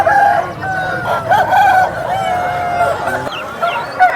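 A Seethuva-colour rooster, about 24 inches tall and over 3.5 kg, crows loudly at a Nallapadu rooster market, with long drawn-out calls close by over a busy background of other fowl and faint crowd noise.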